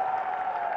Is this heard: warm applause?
yes